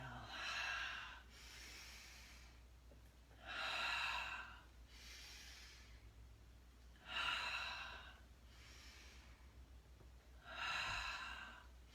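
Slow yoga breathing during a brief hatha practice: four distinct, fairly loud breath sounds, each lasting about a second and evenly spaced a few seconds apart, alternating inhales and exhales over a quiet room.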